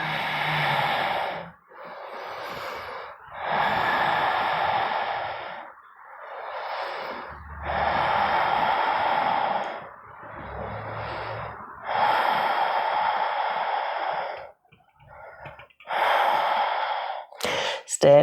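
Slow, deep breaths during a gentle yoga class, long airy inhales and exhales close to the microphone, separated by short silent pauses in an even rhythm.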